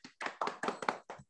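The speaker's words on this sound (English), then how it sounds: "Clap for yourself." Small group of children in a classroom lesson clap for themselves, six quick distinct claps in an even rhythm, close and fairly soft.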